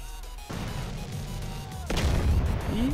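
Rocket launcher firing in GTA V, two loud close booming blasts a moment apart, the second followed by a rushing whoosh, with someone speaking briefly underneath.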